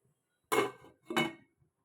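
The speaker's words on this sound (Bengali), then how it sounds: "এবার ঢেকে দেবো।" A lid is set on a cooking pot of boiling spinach: two close, distinct metallic clanks about half a second apart, then quiet, with no talking.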